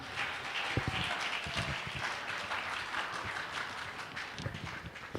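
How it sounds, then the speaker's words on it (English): An audience at a business summit gives a round of applause, a dense wash of many hands clapping at moderate distance with some louder individual claps. "Can we give them a warm round of applause again, please?"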